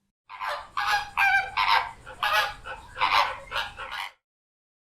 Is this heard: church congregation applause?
no